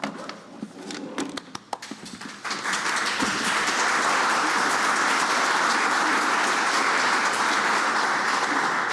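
An audience at a White House healthcare safety forum breaks into steady applause, scattered claps at first quickly swelling into dense, sustained clapping that fills the room.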